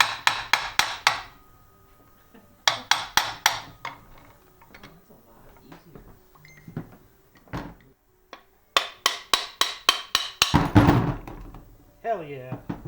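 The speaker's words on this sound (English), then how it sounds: "Back to your regular scheduled beating of this crank." Sharp metallic hammer blows on the crankshaft of a Honda NX50 moped engine during a rebuild, struck in quick bursts of four to six hits with pauses between, close and loud, with a few clanks and a brief voice near the end.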